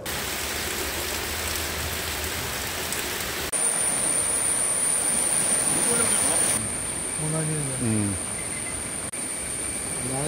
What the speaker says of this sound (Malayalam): കിഴക്കൻ മേഖലയിൽ പെയ്ത കനത്ത മഴയെ തുടർന്ന്